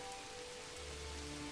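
Rain falls steadily in the medieval city-building game Manor Lords, a soft, even patter with a low rumble joining partway through and no voices.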